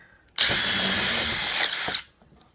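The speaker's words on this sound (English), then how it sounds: "let me just drill down through" A power drill whines loudly for about a second and a half as it bores through plywood, then stops abruptly.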